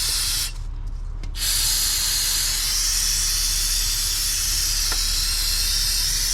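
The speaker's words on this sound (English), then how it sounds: "While I'm here, I'm just gonna spray all this in the bottom because it's greasy." Aerosol spray can hissing steadily as it coats the greasy underside of a 2004 Chevy Silverado truck, one long continuous close spray after a brief pause near the start, with no talking.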